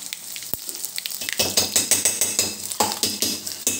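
A dried red chilli and curry leaves fry in hot oil, making a close crackling sizzle with rapid sputtering pops that set in after an early soft tap and carry on without speech.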